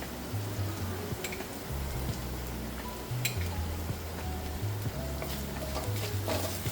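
Steady sizzling of spices tempering in hot oil in a pan, with asafoetida and turmeric, a low droning hum underneath and a few sharp clicks.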